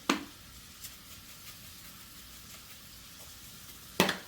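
Mushrooms cooking in a pan for a wild game calzone, a low steady sizzle framed by two sharp scraping clatters of a utensil at the start and end.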